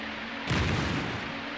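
Explosion in the video game Selma and the Wisp: a single loud, deep boom bursts in after half a second and rumbles off over the next second, with no talk.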